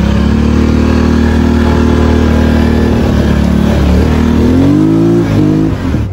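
A 2023 Polaris Sportsman 1000 XP ATV, rebuilt after a wreck, ripping across a dark field: a loud, close engine roar holds steady, then revs climb in pitch near the end before easing off.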